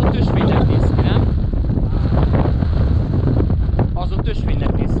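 Strong January wind on Snowdon mountain roars and buffets the microphone in a constant, loud, unbroken rush.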